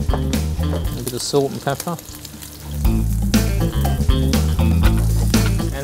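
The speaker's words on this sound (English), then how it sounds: "So we'll go over and cook the scallops off." Scallops sizzling in a hot pan, a loud continuous frying crackle with stirring noises, while a chef talks over it.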